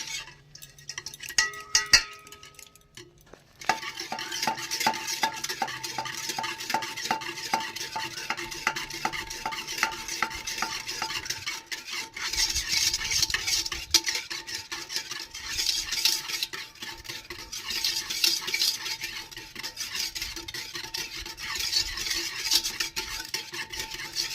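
Yogurt whisked by hand for lassi, a fast continuous rhythmic swishing and light clinking of the whisk against the bowl, close and steady after a brief quieter start.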